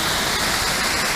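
Small waterfall below Jungbang on Jeju Island, a thin flow of water splashing down in a steady, close, full hiss of falling water with no voices.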